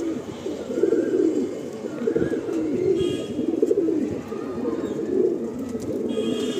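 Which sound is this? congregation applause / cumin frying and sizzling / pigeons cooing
pigeons cooing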